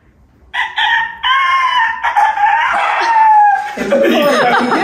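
A person's voice mimics a rooster's cock-a-doodle-doo in a loud, high-pitched warbling crow, with a second voice joining in and some laughter near the end.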